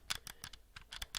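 Mechanical ABXY face buttons on a Razer Wolverine Ultimate controller are pressed in quick, uneven succession, producing about eight sharp, close, crisp clicks with no voices.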